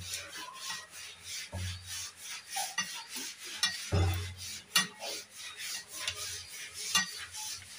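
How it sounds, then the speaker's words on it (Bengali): Jaggery sherbet mixture mashed by hand with cold water, heard as close, wet rubbing and squishing strokes in an irregular rhythm, with a few louder thuds, no voices. "ঠান্ডা জল দিয়ে নেব, দিয়ে ভালো করে চটকে নেব।"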